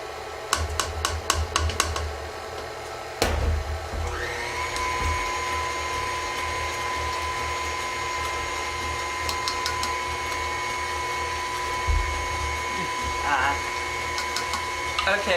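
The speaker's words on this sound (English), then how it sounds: "Okay, so I'm going to just slowly whisk these together." An electric mixer whisks keto low-carb coconut cake batter. A few sharp clicks come first, then the motor starts and holds a steady whirring hum to the end.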